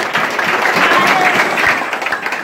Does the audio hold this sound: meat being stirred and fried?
no